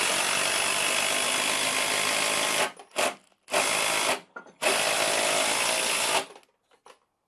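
A power tool drives a countersunk fastener into wood framing, sounding as loud sustained whirring bursts broken by short pauses and a final cut-off, with no talking.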